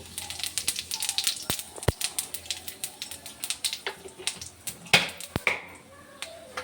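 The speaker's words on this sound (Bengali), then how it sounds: "ফোড়ন দিয়ে দিচ্ছি এই জিরে" Cumin seeds sizzling as they hit hot oil for tempering, a busy crackle of sharp pops and spits over a steady hiss, close and lively throughout.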